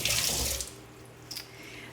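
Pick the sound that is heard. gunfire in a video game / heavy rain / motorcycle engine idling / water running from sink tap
water running from sink tap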